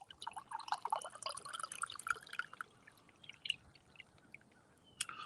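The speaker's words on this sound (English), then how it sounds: "I'm going to pour another 8 ounces" Water trickles and splashes into a cup in a quiet, uneven stream, about 8 ounces poured, with a few brighter drips toward the end.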